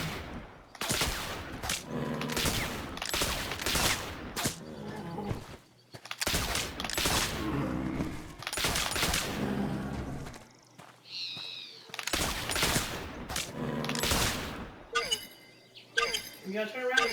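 Gunfire from hunting animals in The Oregon Trail video game, with bursts of rapid shots in several clusters and some short game chirps, while people talk over much of it.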